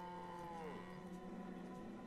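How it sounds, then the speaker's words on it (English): Cattle in the Banished village-building game moo faintly, with a long, low, drawn-out call that bends downward, heard alone over quiet background ambience. "So we've got a hell of a lot of cows."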